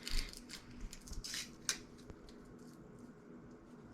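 Papery skin being peeled from a garlic clove, giving dry crinkling and snipping crackles, busiest in the first two seconds and then quieter rustles, close by with no talk.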